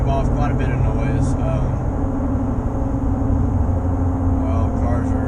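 Cooper STT Pro off-road tires with about 20,000 miles of wear give a steady, loud low roar of road noise while the vehicle cruises at highway speed near 75 mph, continuous throughout, with someone talking over it.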